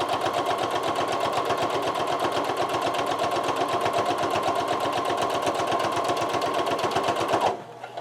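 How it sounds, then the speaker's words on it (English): Sewing machine stitching a quilt-as-you-go block, a fast steady mechanical rattle with an odd-sounding running noise, close and loud, continuing evenly before stopping near the end. "My machine's making a little bit of an odd noise."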